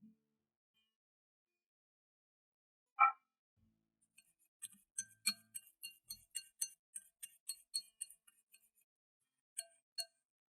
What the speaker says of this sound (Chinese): 搅拌均匀。